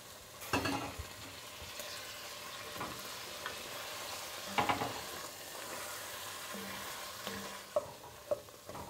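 Garlic sautés in a pot with a continuous close sizzle, broken by occasional sharper pops, clatters and stirring knocks; no voices are heard.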